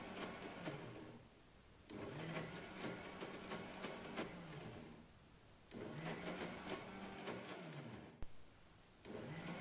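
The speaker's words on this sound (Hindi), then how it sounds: "अब ब्लेड्स आसानी से मूव कर रही हैं, तो इसे हम थोड़ा थोड़ा ज़्यादा देर के लिए ग्राइंड करेंगे।" A kitchen mixer grinder grinding moong dal into a coarse paste, its motor running in loud, whirring bursts of a couple of seconds each, separated by brief pauses, close by with no voices.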